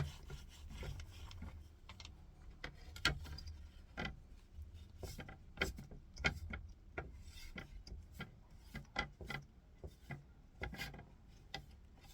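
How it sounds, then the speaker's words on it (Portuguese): A decorative craft piece is rubbed by hand to lift leftover wax marks from its painted surface, giving a steady scratchy rasping with repeated short strokes at close range and no talking. "eu vou passar aqui, ó, pra tirar a marca da cera"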